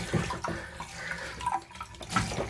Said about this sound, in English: So I'm gonna let this drain for a little bit.